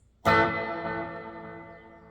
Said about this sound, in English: Maybe too much reverb.